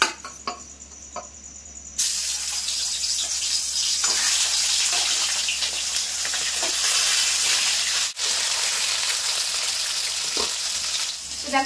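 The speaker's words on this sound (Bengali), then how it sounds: "এবার মাছের মুড়োগুলো ভেজে নেব" Fish heads frying in hot mustard oil in a wok, a sudden loud sizzle bursting in after a quiet start and then crackling and hissing steadily up close, with no talk.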